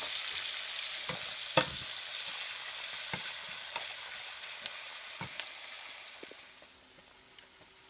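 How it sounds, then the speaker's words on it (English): Green onion and mini sweet peppers fry in hot bacon grease with a steady, bright sizzle, broken by occasional sharp pops and clicks of stirring; the hiss thins toward the end as the heat drops. "add our green onion and mini sweet peppers to the bacon grease"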